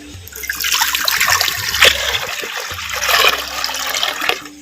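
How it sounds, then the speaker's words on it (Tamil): Water pours steadily into a clay pot with a rushing, splashing sound that rises and falls in strength for a few seconds. "மண் சட்டி வச்சுக்கிறேன் பச்சை தண்ணி ரெண்டு லிட்டர் சேர்த்துக்கிறேன்"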